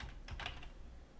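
Typing on a computer keyboard while entering text in CAD software, a quick burst of several close, light key clicks over a steady quiet background hum.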